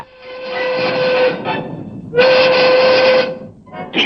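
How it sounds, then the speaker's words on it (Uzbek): A loud steam whistle blasts twice, the second long and steady, over the chugging rumble of a steam train pulling away. "Poyezd ketayotganini eshityapsizlarmi?"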